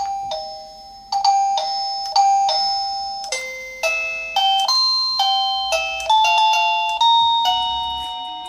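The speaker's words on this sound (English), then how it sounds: "It's a nice chime." A smart doorbell's plug-in chime box plays a bright electronic ding-dong melody, repeated rings of clear decaying tones, loud and close with no talking.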